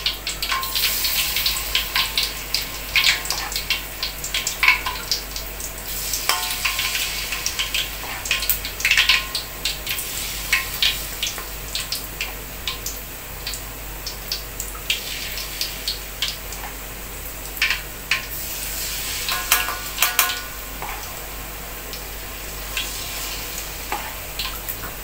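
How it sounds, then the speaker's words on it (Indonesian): Food fries in a pan with a continuous crackling sizzle, with sharper pops and spits scattered throughout. The sound is close and steady, with no talking. "Ini semuanya aja aku goreng ya."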